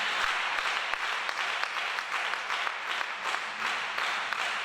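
Church congregation applauding together in a steady, dense wash of clapping that fills the room at moderate loudness, sustained throughout with no pauses.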